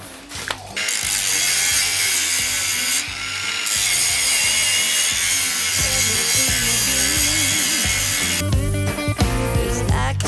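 Loud, continuous high-pitched whine of a Revolt cordless angle grinder grinding metal at maximum speed, with a harsh broadband rasp that shifts slightly in pitch throughout.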